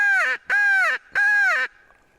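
A loud Flexstone game call used as a turkey-hunting locator in Wyoming's Black Hills blasts three harsh crow-like caws close to the microphone, the first two nearly back to back and the third after a short gap, then silence.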